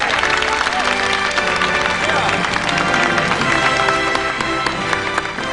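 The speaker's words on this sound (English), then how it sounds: "Give yourself a nice round of applause." An audience breaks into sustained, full applause for a comedy presentation, steady and loud throughout, with music playing underneath the clapping.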